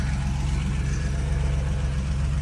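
A car engine idles steadily with a low, even rumble throughout, loud and close, with no voices.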